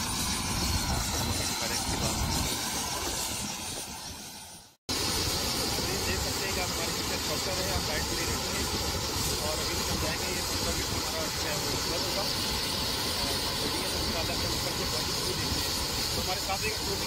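A helicopter waits with its rotor and engine running for passengers on a New York tour, giving a loud, steady whooshing drone that cuts out briefly and then resumes, with voices faintly beneath it.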